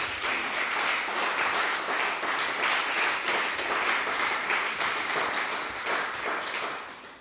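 A church congregation claps together in a steady, dense round of applause that stays loud throughout and fades slightly at the end.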